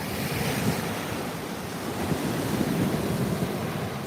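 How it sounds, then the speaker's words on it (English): Ocean waves break continuously at Fort Lauderdale beach, a loud, steady roar of surf with wind buffeting the microphone and no voices. "These waves are getting bigger and bigger."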